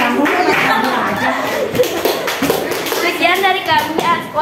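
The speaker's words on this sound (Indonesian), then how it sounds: "tepuk tangan dong buat kelompok" Classroom applause for a group of students, many hands clapping in a steady, busy patter, mixed with children's chatter and shuffling and with voices talking over it.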